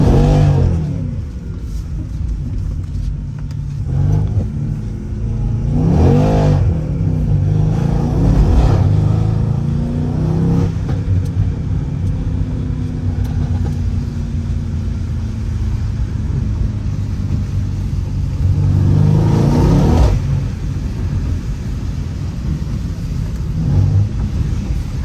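Stage 2 Mercedes C63 driving in the rain, a deep engine rumble that surges through several revving accelerations with gear shifts, heard from inside amid wind and road noise.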